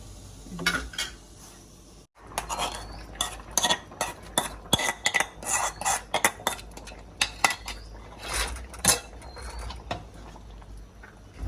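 A pot of sambar being stirred as milk is mixed in, with busy metallic clatter and scraping of a spoon against the pot in quick, irregular strokes, loud and close, with no voices.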